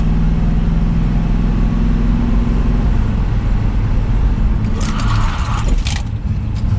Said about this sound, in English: So the car cruises pretty darn good.